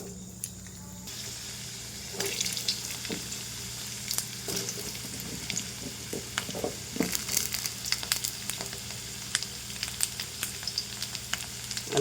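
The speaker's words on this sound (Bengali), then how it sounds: "আলুটা ভেজে নেব।" Potatoes frying in mustard oil in a wok, starting quietly and then breaking into a steady crackling sizzle with scattered spatula scrapes and pops.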